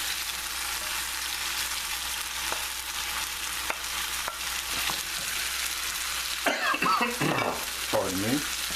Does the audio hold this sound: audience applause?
no